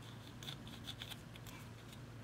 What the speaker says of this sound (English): And just cut it with scissors or a kitchen knife.